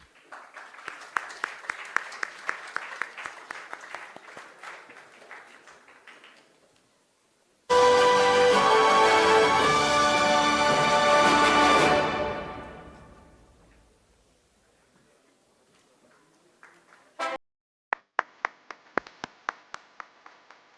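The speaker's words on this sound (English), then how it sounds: "A round of applause will be really helpful now." An audience applauds at a live event on India's moment in a fractured world. Scattered clapping is followed by a loud burst of music or fanfare, and a few sparse claps come at the end.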